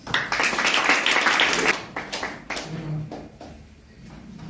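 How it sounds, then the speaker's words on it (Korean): Applause at a forum and symposium in a conference hall, with a burst of clapping for about two seconds that thins into scattered claps and then dies away. "박수 한번 주세요."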